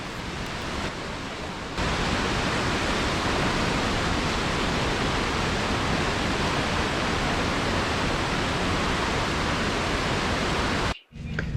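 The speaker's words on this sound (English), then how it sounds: "right across the street from the fish hatchery is this gorgeous waterfall and a creek that runs into" Waterfall and creek across from a fish hatchery in Valdez, a loud, dense, steady roar of rushing water that holds constant throughout, close by with no voices.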